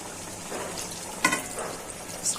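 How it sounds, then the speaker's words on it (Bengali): Liquid going into a pan of frying tomato curry for katla fish, a faint sizzle with a brief splash in the middle. "দিয়ে দিচ্ছি ঝোল"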